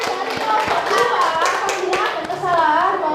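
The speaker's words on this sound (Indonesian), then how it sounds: "tepuk tangan untuk kelompok 2" Students in a micro-teaching classroom applaud a presenting group, a short burst of close hand clapping over children's voices and chatter.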